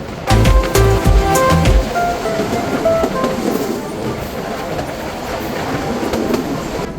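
The Rajshahi commuter train on the Rajshahi–Rohanpur line runs along the rails, loud, close rumbling with a strong low throb at first, then a steady rolling roar with faint clatter and brief squeals.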